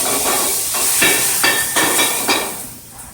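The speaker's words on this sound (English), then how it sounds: "Get my green beans, I'm going to toss them in there. That's when you know the pan's hot." Green beans tossed into a hot pan sizzle with a steady, bright hiss, broken by a regular rhythm of stirring strokes, close and fairly loud.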